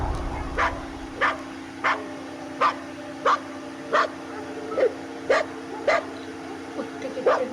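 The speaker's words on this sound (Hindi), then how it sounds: "कुत्ते कितने भौंकने हैं।" Dogs bark outdoors at night, about a dozen sharp barks in a regular rhythm roughly every two-thirds of a second, moderately distant, over a steady electrical hum.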